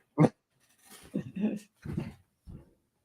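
A pet dog just let back indoors makes a few short breathy pants and soft whimpers, close and intermittent, in brief bursts separated by quiet.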